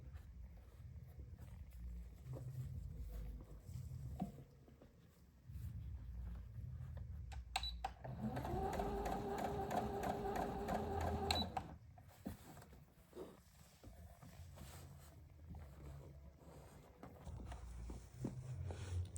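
A domestic sewing machine runs a steady, rapid stitching burst for about four seconds while a reversible patka is sewn. The machine is loud and close, with quiet handling noises before and after it.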